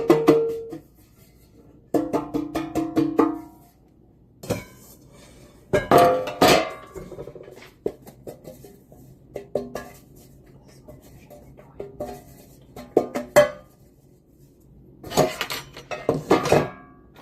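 Metal baking tins for a Jamaican Easter bun clatter and clink as they are picked up and set down in a home kitchen, with several separate bursts of clanking and quieter pauses between them.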